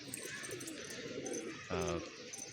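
Pigeons cooing near the loft, a soft close coo rising out of low background noise toward the end of a brief moment.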